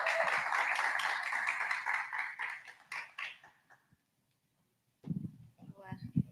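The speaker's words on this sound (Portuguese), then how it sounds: "Então, por favor, uma série de aplausos." Audience applause at a talk on building a tech career swells loudly, thins out and stops, then after a short silence a voice begins speaking.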